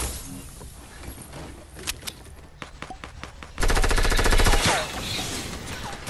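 Fortnite gunfire: scattered single shots and short bursts, then a loud sustained stream of rapid automatic fire, trailing into lighter shooting.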